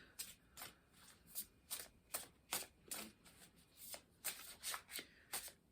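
Shaman's Dream Oracle cards are shuffled in quick riffling bursts, about a dozen crisp rhythmic flutters close by and fairly quiet, with no speech.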